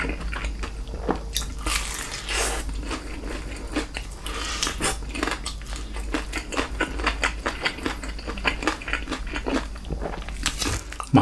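Spicy Mexicana Buldak fried chicken with cheddar cheese, Chapagetti-style noodles and hot mayo eaten close to the mic, with constant crunchy bites, wet chewing and squishy mouth sounds, no talking.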